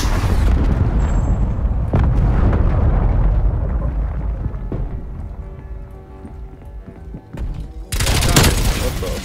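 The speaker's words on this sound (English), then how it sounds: "Cruise missile inbound." Cruise missile strike in Call of Duty: Black Ops Cold War multiplayer, a burst of heavy booming explosions and crackling debris that fades out, then another loud blast at the end, with a player's voice over the game audio.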